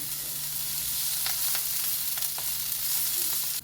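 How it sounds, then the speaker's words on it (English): Onions and dhania stock frying in hot oil in a pan, a steady close sizzle with occasional crackles and pops throughout, no voices. "I have already put my oil in, so I'll just go in with the onions and the dania stock."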